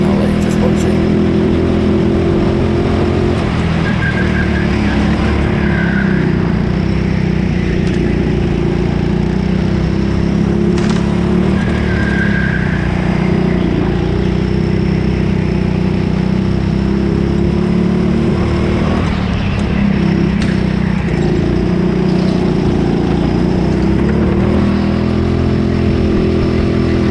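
Go-kart engines on an indoor track during a fast lap at Teamsport Trafford Park, a loud, continuous droning motor sound that rises and falls with speed throughout, close up.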